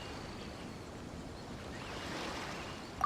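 Ocean waves wash steadily in Genshin Impact, a broad continuous surf roar that swells slightly toward the end, with no voices over it.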